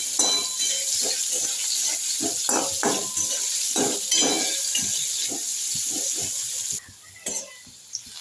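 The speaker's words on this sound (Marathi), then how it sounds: "तुम्ही बघू शकता कधी आपला कांदा छान फ्राय झाला" Onion fries in a pan with a little salt for potato bhaji, sizzling steadily up close while a spoon clicks and scrapes against the pan in irregular stirring strokes, with no talking.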